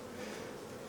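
Honey bees buzzing around an opened hive during a honey harvest, a dense steady close swarm hum filling the moment without pause.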